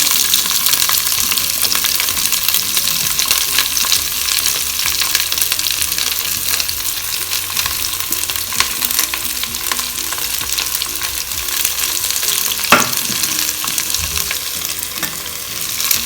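Vegetables, green chillies, onions, carrots and beans frying in a Geek Robocook electric cooker, giving a loud continuous sizzle with stirring scrapes and occasional clinks throughout.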